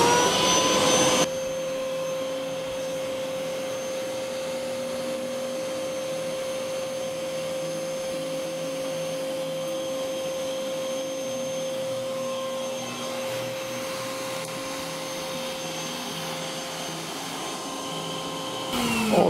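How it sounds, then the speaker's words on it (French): A vacuum cleaner fitted with an elastic-held cover over the nozzle runs continuously, a loud steady whine with a high tonal hum, switched on at the start and cut off at the very end, with no talking. "Donc je mets l'aspirateur en route."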